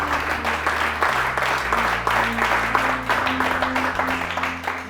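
A church congregation claps and cheers in praise at a worship service, a dense wash of applause continuing throughout over sustained low organ or keyboard tones.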